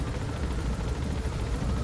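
Helicopter in the video game Metal Gear Solid V, a steady low rotor and engine drone filling the scene continuously at moderate level, with no voices over it.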